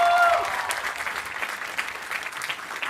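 An audience at a college commencement ceremony applauds prize finalists. The clapping is full and steady, and a voice briefly overlaps it at the start.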